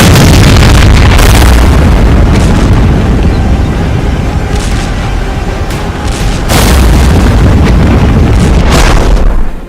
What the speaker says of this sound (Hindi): यूक्रेन में सीरियल धमाके हो रहे थे